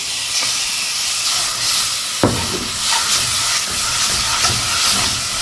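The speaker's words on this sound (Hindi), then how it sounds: "ये सारी चीजें इकट्ठी इसी ऑयल में मैं डाल दूंगी।" Garlic and spices hit hot oil for a garlic curry, giving a loud steady sizzle and hiss with a sharp burst as the garlic drops in, then continuous frying.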